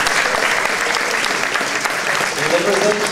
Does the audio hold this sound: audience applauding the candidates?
yes